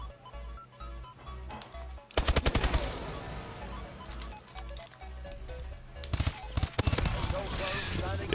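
Rapid automatic gunfire bursts in Call of Duty Advanced Warfare multiplayer, two loud sustained volleys of close machine-gun fire separated by quieter game ambience, with a player talking.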